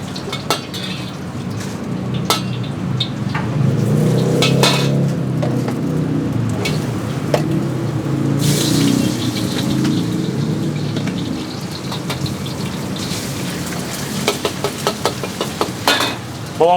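Snails fry in a sizzling wok in a busy restaurant kitchen at dinner rush, with a steady hiss under repeated clanks and scrapes of utensils and pans, growing sharper and more frequent toward the end.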